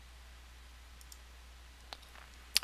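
A few faint, sharp computer mouse clicks while starting a recording in image-editing software, sparse taps over a quiet room hum, with one crisper click near the end.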